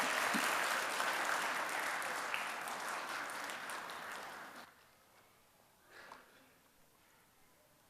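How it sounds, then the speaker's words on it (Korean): A congregation at a church service claps warmly for a speaker coming to the stage, the applause steady for several seconds before fading out abruptly into near quiet with a faint stray sound. "우리 따뜻한 박수로 단에 모셔주시면 감사하겠습니다"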